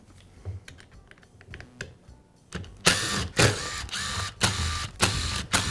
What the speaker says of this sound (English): I'll begin by removing the rear handle cover.